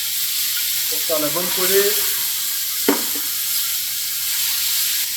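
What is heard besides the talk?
mushrooms frying in a pan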